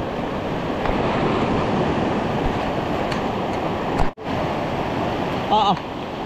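Constant loud rushing water of a fast, rain-swollen river roars close by, a heavy broadband torrent with wind buffeting, and a brief voice near the end.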